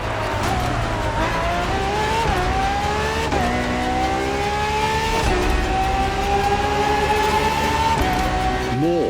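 Ferrari FXXK racing car engine in the game The Crew Motorfest, a high-pitched howling engine revving through rising gear sweeps with brief dips at each shift, loud and close, with some tire noise.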